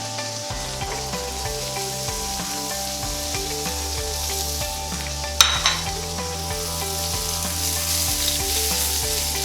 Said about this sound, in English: nice and hot skillet that's going on. I'm ready to go ahead and add my onions.